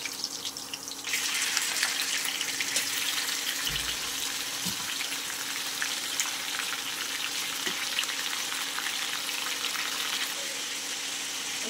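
Potatoes and small pieces of chicken fry in a pan, giving a steady, close hiss and crackle that runs unbroken throughout, with no talking.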